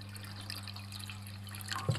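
Water trickles and drips into a samovar, a Russian self-boiler, in the woods of a Russian village, a faint steady pour over a low constant hum with a brief splash at the end.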